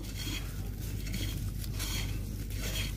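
A spoon scrapes and clinks as it stirs ground mustard-seed fertilizer in a container, a continuous close gritty mixing with no voices.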